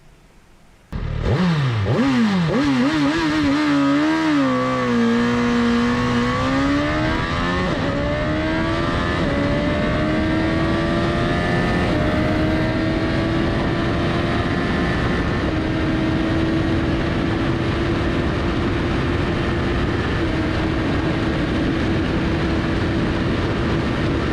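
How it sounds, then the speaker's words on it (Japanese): A Suzuki Hayabusa motorcycle accelerates hard on a top speed run, engine roaring up through quick gear changes, then holding a loud, sustained high-pitched drone as speed builds toward 300 km/h. "それでは続いてはやぶさの走行も計測していこう。"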